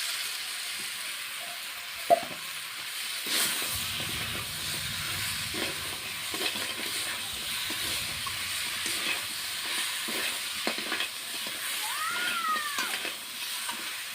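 Crab pieces sauté in spice masala with potatoes, giving a steady, moderate sizzle with intermittent stirring scrapes and clatter, close and continuous throughout.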